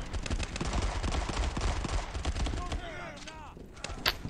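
Pistol and other gunfire in a World War 2 mobile first-person shooter, a rapid stream of sharp close shots for about three seconds, then a pause with whooshing effects and one loud final shot.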